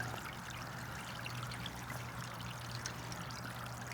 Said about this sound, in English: It's dripping through the liner and emptying into the basin.